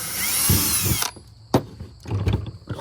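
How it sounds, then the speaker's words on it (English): A power drill bores a pilot hole into a hard plastic jug cap, whining loudly for about a second, then a few short bursts and clicks follow close by. "drill down in the cap for a pilot hole because they're way too hard to screw by hand"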